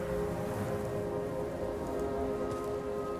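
Steady rain, the timefall of Death Stranding, patters continuously on surfaces in a game trailer, a dense even hiss with no voices.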